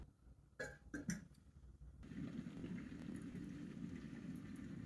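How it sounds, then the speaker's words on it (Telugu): Drumstick and rice flour curry simmering on a medium flame, a soft continuous bubbling that follows a few brief clattering knocks, close and fairly quiet. "మీడియం ఫ్లేమ్ మీద కూరని కొద్ది కళ్ళాపెళ్ళ ఉడకనిద్దాము."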